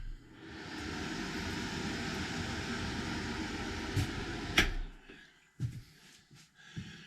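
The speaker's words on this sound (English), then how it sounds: "There is an exhaust fan in here." A bathroom exhaust fan runs in a tiny log cabin trailer with cedar walls, giving a steady, fairly quiet broadband whoosh for about five seconds before it cuts off, followed by a few brief knocks.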